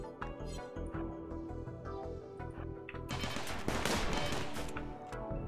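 Gunfire during a raid in the video game Rimworld, a rapid stream of game gunshots and bursts that builds into a dense, loud volley halfway through, over a backdrop of game music.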